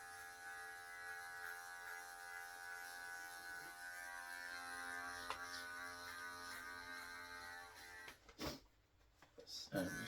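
Electric hair clippers fitted with a number 6 guard buzz steadily through side and back hair, a close, even hum with a brief louder stroke midway, stopping near the end as clicks and handling noises follow.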